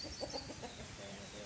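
Hens clucking outdoors on farmland, a few soft, irregular clucks close by over a steady low rumble of rural background noise.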